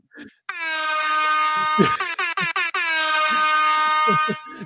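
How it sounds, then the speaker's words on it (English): A loud, blaring air horn from a phone app sounds in long bursts, broken by a quick series of short staccato blasts in the middle before another sustained blare. "you ain't no DJ unless you have like an air horn on you at the ready"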